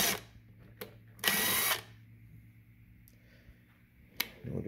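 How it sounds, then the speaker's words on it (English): Power drill pre-drilling a shallow screw hole in wood while building a rustic sink: one loud high-pitched whine of about half a second, close by, with a few faint clicks and handling knocks before and after. "I'm just going to do a little pre-drill."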